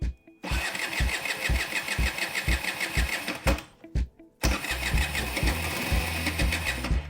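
A scooter's electric starter cranks in a rapid mechanical whir with rhythmic chugs, pauses briefly, then cranks again as the engine catches into a rough, uneven running sputter, loud and close.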